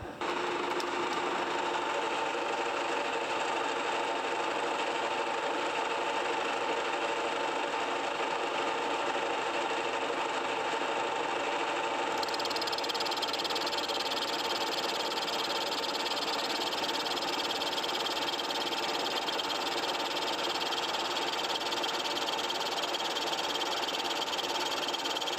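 A worn, noisy milling machine cutting a locomotive crosshead makes a steady whirring, chattering drone with high ringing tones, running continuously and fairly close.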